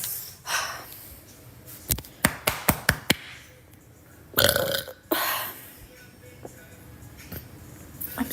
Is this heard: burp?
yes